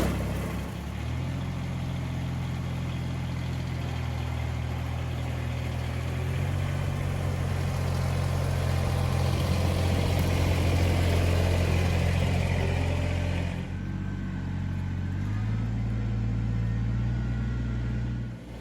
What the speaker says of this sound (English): I'm gonna try and attempt to drive the tractor